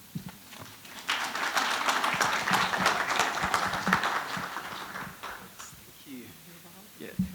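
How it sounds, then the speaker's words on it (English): Applause rises from an audience after a speech, a broad patter of clapping that swells, holds, then fades, with voices audible faintly at the edges. "give her another warm round of applause"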